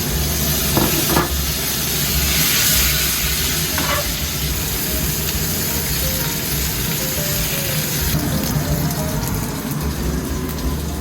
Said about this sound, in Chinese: 我们就可以下马铃薯。